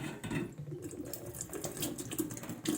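Water runs from a household tap while a threaded fitting is unscrewed from it, a steady close splashing stream with faint metallic handling underneath, no talking.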